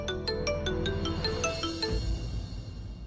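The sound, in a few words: phone ringing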